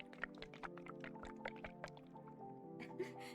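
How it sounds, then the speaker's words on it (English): A bottle of Up&Go liquid breakfast drink is shaken, producing faint wet sloshing and dripping splashes in quick irregular pulses, close and quiet against a soft tonal background. "That's me shaking my up and go, sorry."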